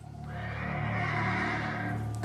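A horse neighs loudly in one sustained, wavering whinny lasting about two seconds, close and alone with no talk.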